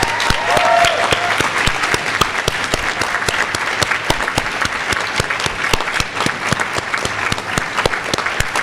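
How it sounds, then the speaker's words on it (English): An audience at a medical school white coat ceremony claps steadily and loudly, a dense continuous patter of many hands filling the hall with no voices over it. "let's take a moment to please applaud all of those who have supported you along the way to you becoming a student physician"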